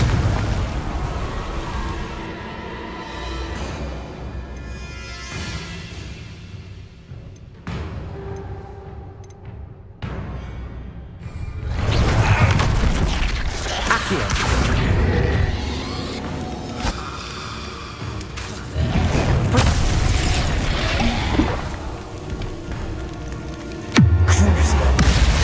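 Confringo blasting spell explosions in Hogwarts Legacy, several loud booming bursts spread across the stretch with fiery roaring tails, separated by quieter game ambience and occasional talk.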